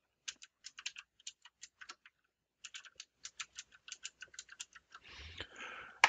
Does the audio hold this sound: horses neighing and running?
no